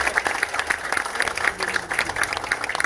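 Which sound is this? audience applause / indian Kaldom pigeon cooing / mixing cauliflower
audience applause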